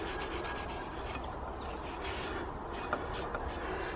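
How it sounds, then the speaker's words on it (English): A cloth wiping rust and earth off a metal garden tool blade, a soft continuous rubbing close by with a few faint scrapes and light knocks. "with the cloth just wipe the rust off"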